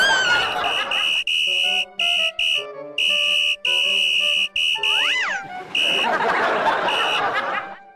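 Repeated sharp whistle blasts sound in a comedy scene, a series of loud, close, piercing toots in uneven bursts, with a sliding warbly tone and brief laughter-like sounds between them.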